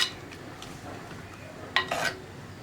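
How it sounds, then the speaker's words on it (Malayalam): Stirring yam and bean erissery (chena payar) in a pot gives soft, low scraping with a couple of sharp spoon clinks against the pot near the end, fairly quiet and close. "ഇനി ഇതെല്ലാം ചേർത്ത് ഇളക്കി മിക്സ് ചെയ്യാം."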